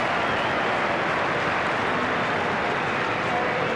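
Football crowd at a 1987 North Melbourne versus West Coast Eagles match roars after a goal, a dense, loud, sustained wall of cheering that fills the stretch without pause.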